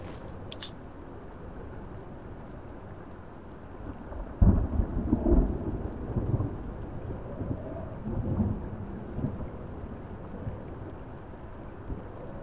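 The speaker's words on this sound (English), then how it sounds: "Great. A storm." Thunder rolls through a rainy storm, a deep rumble breaking out midway and swelling in several waves over a steady background of falling rain, with no voices.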